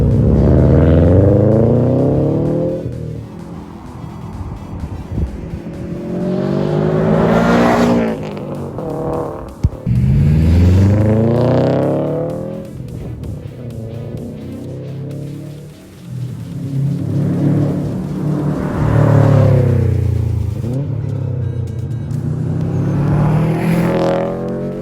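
A Subaru STI drives and revs hard, its engine rising and falling in repeated surges of acceleration with deep rumble and rushing road noise, loud and close from start to finish.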